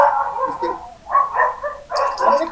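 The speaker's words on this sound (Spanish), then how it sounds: "Los perros, perros, por favor." Dogs bark in close, loud bursts, three clustered outbursts of yelping barks with brief pauses between them.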